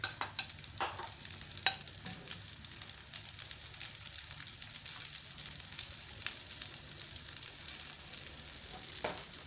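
Onions fry in hot ghee for a bitter gourd karahi, a soft, even crackling sizzle with occasional utensil clicks and stirring scrapes, fairly quiet and close, no voices present.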